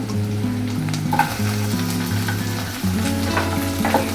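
Chopped tomato frying with browned onions in a pan for misal, a steady loud sizzle with occasional stirring scrapes, no voices.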